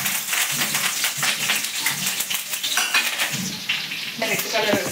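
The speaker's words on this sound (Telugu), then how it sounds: "బాగా డీప్ ఫ్రై చేసుకోవాలి." Curry leaves deep frying in hot oil for chicken pakodi, a dense continuous sizzle with crackling bursts and a few clinks of a utensil against the pan, steady and close.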